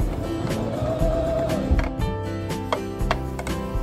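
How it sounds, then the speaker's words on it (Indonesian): A sewing machine runs as its foot pedal is pressed, producing a rapid run of rhythmic mechanical clicks and knocks from the moving needle, moderately loud and close, with no talking. "Amati berapa cepat jarum mesin bergerak."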